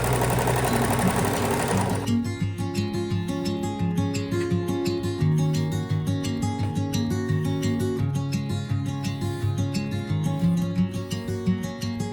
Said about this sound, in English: I use my straight sewing machine to attach the thread tail to the edge of the strap